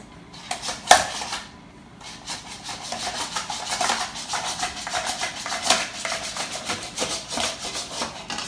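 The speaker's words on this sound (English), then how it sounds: "I've chopped up or sliced some onions in pretty even amounts" A knife works through onions on a cutting board with steady rasping, rubbing strokes and a sharp knock near the start, close and moderately loud, with no voices.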